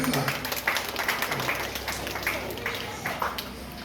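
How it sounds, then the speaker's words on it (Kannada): An audience claps at a children's summer camp closing ceremony, a moderate, irregular patter of applause heard beneath someone speaking throughout. "ಎಲ್ಲರೂ ಚಪ್ಪಾಳೆ ಮೂಲಕ"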